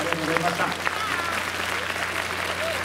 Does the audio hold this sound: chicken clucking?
no